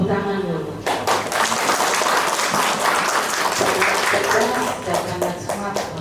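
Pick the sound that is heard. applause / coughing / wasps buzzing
applause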